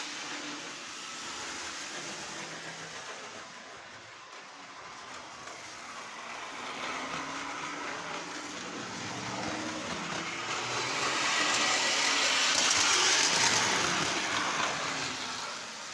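Low-geared model railway gang car engine runs continuously, a steady broad whirring rumble that swells louder toward the end, with no talk.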